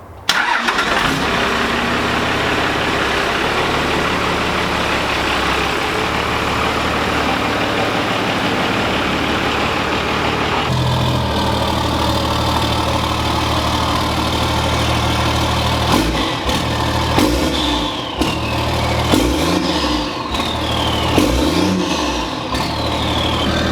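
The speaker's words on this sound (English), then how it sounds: "We're going to fire up the truck, take it out." A 12-valve Cummins diesel pickup truck engine with a fuel plate cranks and catches, then runs loud and rough nearby, with several throttle revs rising and falling in the second half.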